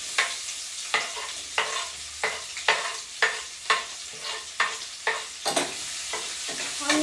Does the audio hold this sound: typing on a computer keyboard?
no